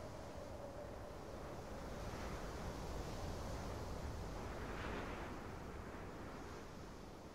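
Strong wind roars steadily over open sea in the sailing game Sailaway III, a broad, constant rush mixed with surging wave noise that swells slightly in the middle and eases at the end.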